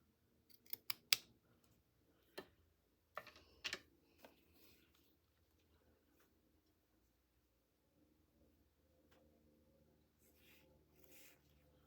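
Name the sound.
cutting a lace snippet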